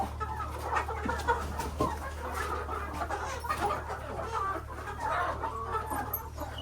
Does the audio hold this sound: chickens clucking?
yes